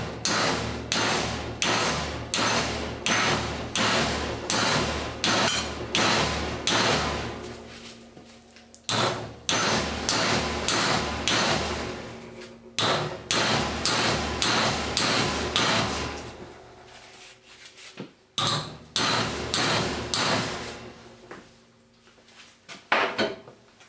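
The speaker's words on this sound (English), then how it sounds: "We're now going to take a lump hammer and we're going to hit the piece of metal." A lump hammer strikes a flat steel bar clamped in a vise, delivering loud, rapid metallic blows in several sustained bursts with short pauses between them.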